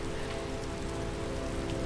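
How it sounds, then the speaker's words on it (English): Heavy rain in Skyrim pours down in a dense, constant hiss and patter, steady and fairly loud with no talking. "It's raining so hard."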